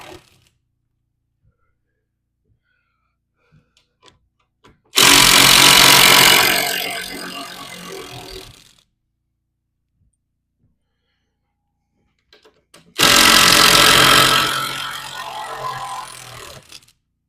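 Screws holding a frame backed out with a power driver during a tiny home teardown, two loud whirring bursts of a few seconds each separated by near silence.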